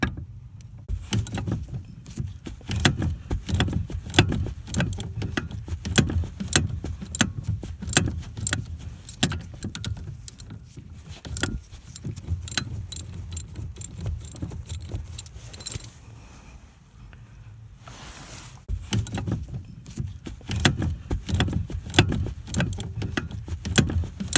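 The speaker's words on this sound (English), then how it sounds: "so I think it's time to loosen the bolts." A wrench works on the bolts of a car's steering yoke at the steering column, giving a long run of rapid metallic ratcheting clicks and jingling, close and fairly steady, with a brief quieter pause midway.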